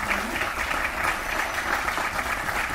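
An audience applauds after speeches at an event, giving a dense, steady round of clapping that holds evenly at moderate loudness for the whole stretch.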